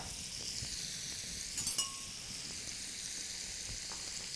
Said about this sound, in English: While that shrimp is cooking